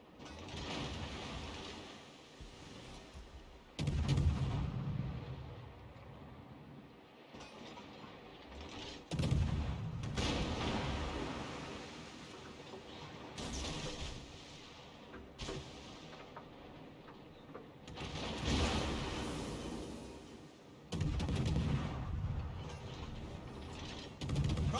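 Naval gunfire in World of Warships from a Kleber destroyer in a ranked match: repeated heavy booming salvos with rumbling low-end bursts spaced several seconds apart, over continuous mechanical clanking and whirring, with no voices.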